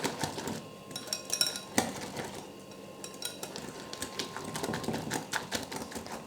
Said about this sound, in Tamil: நல்லா இந்த மாதிரி கொஞ்சம் நுர வர மாதிரி அடிச்சுக்கோங்க.